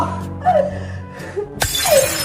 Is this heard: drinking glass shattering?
yes